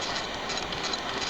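Inside a high-speed train traveling from Shanghai to Wuxi, a steady loud broadband rumble and hiss of the carriage in motion fills the space evenly, with no talking.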